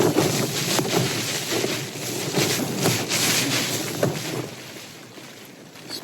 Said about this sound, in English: You can see the tent's still a bit shaky with wind.